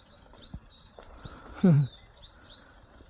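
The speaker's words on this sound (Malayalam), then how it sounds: "ലവ് ബേഡ്സിനെയൊക്കെ കൂട്ടിയിട്ട് വളർത്തുന്ന പോലത്തെ ആ സൗണ്ട്" A flock of tiny birds chirps rapidly and continuously along a path up to Hill View Park in Idukki at midday. The high, bright tweets overlap from many birds at once, with a brief low thump partway through.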